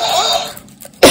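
Talking cactus toy mimicking a cough, an electronic-sounding tone trailing off into near silence before one sharp, loud cough-like burst at the end.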